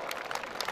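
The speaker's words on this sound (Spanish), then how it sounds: "Y écheme el aplauso para el primer jinete" A fair crowd briefly applauds for a rider, a short burst of scattered clapping at moderate distance, with a few distinct hand claps poking through.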